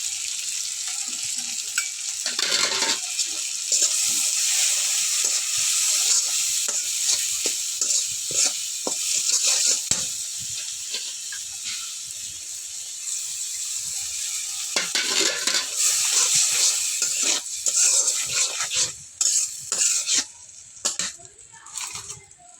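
Spices, salt, chili and tomatoes stir-fried together in a pan give off a loud, steady sizzling hiss, broken by frequent scraping strokes of the spatula. Near the end the sizzle turns choppier as the stirring slows.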